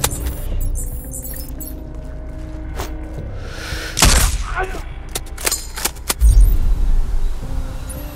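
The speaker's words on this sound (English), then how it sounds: "Somebody's shooting!" Gunfire in the video game Sniper Ghost Warrior Contracts 2, a few sharp shots and bursts cracking over a steady ambient game background, with a louder low thump near the end.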